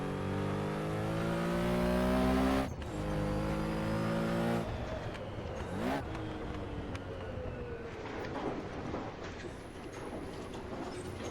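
Car engine on a lap of the Nürburgring Nordschleife, droning loudly with rising rev sweeps, a sudden cut at a gear change, then lower, rougher engine noise with further revving as the run continues.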